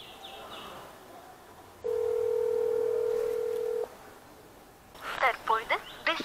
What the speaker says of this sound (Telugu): కస్టమర్ కాల్ కట్ చేస్తున్నారు.